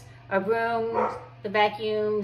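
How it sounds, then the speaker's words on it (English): Household dogs bark and yip twice in short bursts, close and fairly loud, as a person speaks over them. "Excuse the dogs if you hear them barking"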